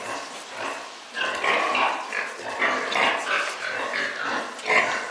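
Month-old piglets feed alongside their mother sow, filling the air with a dense, continuous chorus of grunts and squeals close by, rising and falling in bursts.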